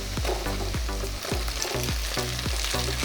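Chopped onion and flattened rice (poha) frying in a pan, a loud continuous sizzle broken by regular scraping strokes of a spatula stirring, close up with no talking.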